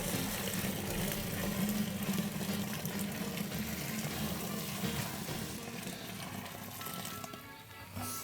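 Warm homemade beer wort pours on a porch into a sanitized bucket, a steady gushing, splashing stream that runs the whole time and tapers slightly near the end.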